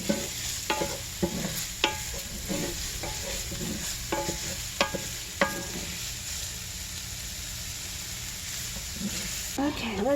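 Garlic sizzles loudly in a hot pan with onions and peppers, a steady frying hiss broken by sharp clacks of a utensil stirring and scraping the pan, close up.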